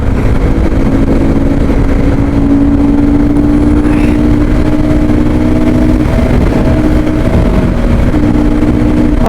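A motorcycle engine hums steadily on a motovlog ride near Kodiyakarai beach, loud and close with constant wind rush and a steady drone throughout.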